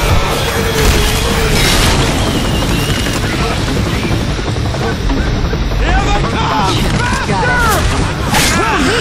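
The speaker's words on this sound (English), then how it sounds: "Grenade!" A grenade blast in the Left 4 Dead 2 video game booms through dense, continuous combat noise, mixed with rapid gunfire and clattering mechanical effects throughout.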